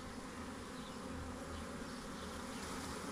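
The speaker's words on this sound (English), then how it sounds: "They're flying around it a little bit, but the majority of the bees are all here." A swarm of bees gives off a dense, steady, close buzz that holds evenly with no pauses or voices.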